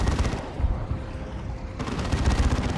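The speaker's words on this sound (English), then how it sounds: "I hear an assault cannon." An assault cannon fires in the Dawn of War 2 real-time strategy game, a dense rapid burst of loud gunfire rattling continuously amid battle noise, stopping briefly partway and then resuming.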